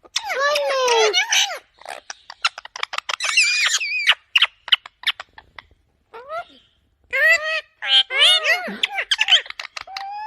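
Pet parrots at home give bursts of sharp, whistling squawks and chirpy calls in uneven clusters with short pauses, close and fairly loud.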